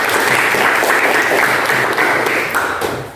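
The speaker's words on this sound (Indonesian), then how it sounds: "Tepuk tangan dulu." Dense, loud applause from a class or group during a physical fitness lesson session, a continuous wash of many hands clapping that holds steady and then tapers slightly at the end.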